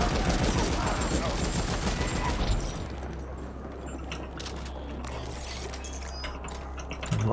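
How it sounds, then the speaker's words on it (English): Rapid machine-gun fire in the sci-fi shooter game The Ascent bursts densely and loudly for nearly three seconds, then falls away to a quieter mechanical hum with scattered clicks. "Lots of these machine guns now."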